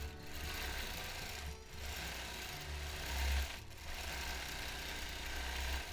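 Home sewing machine free-motion quilting a paisley design at slow speed, a steady low whirring drone with two brief pauses, close and moderately quiet.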